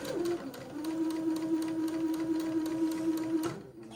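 A home sewing machine stitches close along fabric pleats on a bishop-style garment, running in one steady close hum for most of the stretch before stopping abruptly near the end.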